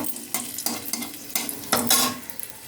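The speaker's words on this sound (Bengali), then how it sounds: "শুকনো লঙ্কাটা ফোড়ন দিয়ে দিলাম" Dried red chillies tempering in hot oil for a Bengali-style crab dish, sizzling steadily with bursts of stirring and scraping against the pan, close and loud.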